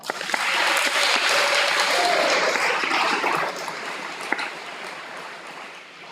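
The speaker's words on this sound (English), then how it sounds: "Let's give them a round of applause" A high school awards ceremony audience applauds the seniors with a broad wash of many hands clapping, loud at first and then thinning and fading toward the end.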